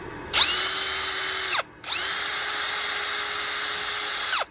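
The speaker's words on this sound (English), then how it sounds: "get yourself a wire wheel on a drill" A drill spins a wire wheel against metal cups on a 2016 Ram 3500 front end, making two sustained high whining runs of about a second and two and a half seconds. A short pause separates them, and the sound is close and steady.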